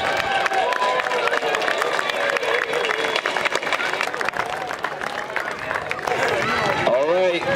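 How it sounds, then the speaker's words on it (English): A crowd at the Armenian AYF Olympics opening ceremony claps and cheers for former AYF kings and queens. Dense, sustained applause fills the space, with cheering and crowd babble mixed in. "Give them a nice round of applause"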